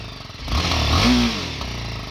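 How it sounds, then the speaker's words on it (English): A 2024 BMW G310R motorcycle engine revs up sharply from idle, swells loudly for a moment, then drops back to a steady rumble. "Let's start the bike now. Let's rev the bike, okay?"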